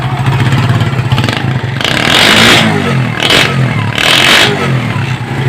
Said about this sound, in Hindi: सिलेंसर का जो साउंड है ये थोड़ा सा साउंड इसका जो है वो कड़क किया गया है सिलेंसर का।